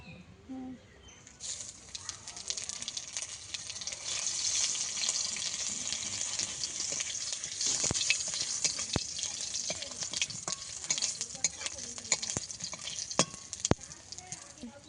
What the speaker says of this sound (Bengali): এবার ফোড়ন দিয়ে দেবো এইগুলো